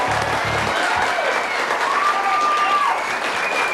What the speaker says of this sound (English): Now, Hank, you acted like you didn't know whether to clap or not, but you kind of gave it a half-hearted one.